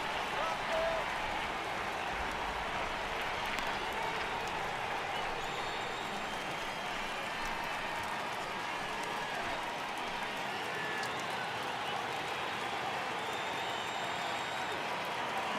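In-game crowd noise from MLB The Show 18, a simulated ballpark crowd at Fenway for a Red Sox home game against Minnesota, swells as fans rise for a full count, a steady dense roar running under the play-by-play commentary.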